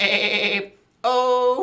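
A person's voice imitates a goat's bleat in two loud, nasal, wavering calls separated by a brief pause, the second a sustained buzzy tone with strong harmonics.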